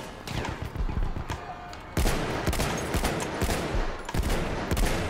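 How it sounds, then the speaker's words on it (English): Turret fire rakes the area in Battlefield 1, a dense rapid stream of heavy booming shots with several harder cracks standing out, loud and continuous across the whole stretch. "someone's firing a turret into here"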